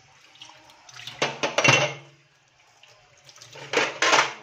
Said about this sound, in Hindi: बर्तन धो लेती हूँ।